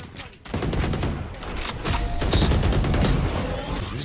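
Rapid bursts of gunfire ring out in a Valorant match on the Split map, loud and dense across the whole moment. A player's voice talks over the shooting.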